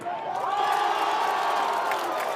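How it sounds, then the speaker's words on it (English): A stadium crowd at an ultimate frisbee match in Varsity Stadium, Toronto, keeps up a continuous roaring chant urging the home defense, dense and steady, with faint whoops rising above it. "Crowd here at Varsity Stadium trying to urge their side on with the defense chants."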